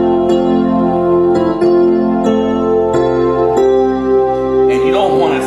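A piano plays a song melody with plain, straight chords as written, sustained notes changing every second or so, loud and close, with a brief spoken voice near the end.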